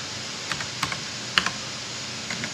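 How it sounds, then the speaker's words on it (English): Computer keyboard keys typed in a short, irregular burst of separate clicks, moderately close, with no talking over them. "And if my keyboard would type here"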